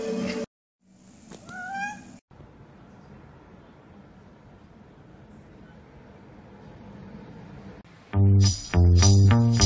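Cats meow loudly and close at hand: a rising, wavering cry near the start, a quiet stretch of room noise, then several strong, drawn-out meows at the end.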